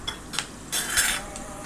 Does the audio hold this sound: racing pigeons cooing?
no